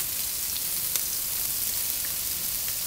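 Onions with salt frying in a pan for a potato and bell pepper curry, giving a steady, soft sizzle with faint crackles and no talking.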